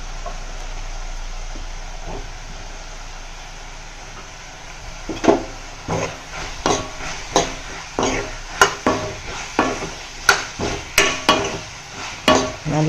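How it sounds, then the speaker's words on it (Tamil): Brinjal pieces are sautéed in a pan for a kosthu side dish, with a faint sizzle underneath and a run of sharp metallic spatula scrapes and knocks against the pan coming in an irregular, fairly quick rhythm, close and fairly loud. "கத்திரிக்காயும் சேர்த்து நல்லா வதக்கி விட்டுக்கலாம்."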